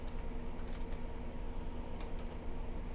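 Keys on a computer keyboard are typed during C++ programming. Faint, scattered clicks sit under a steady background hiss.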